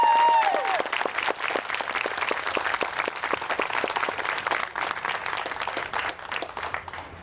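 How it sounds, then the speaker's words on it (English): A crowd claps outdoors at a Black Lives Matter march, thin scattered applause from a modest group with distinct individual claps, steady and then tapering slightly. "So can we give them a round of applause for taking us?"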